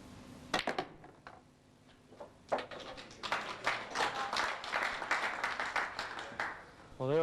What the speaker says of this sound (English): Well, they were clapping